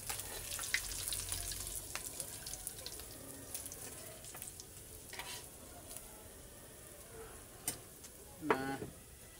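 Fish fries in a pan with a steady, soft crackling sizzle throughout, with occasional clinks and a brief scrape near the end.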